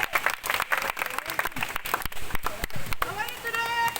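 Schoolchildren clap and cheer at a school assembly, a dense burst of applause with voices over it, ending in a few whistled tones.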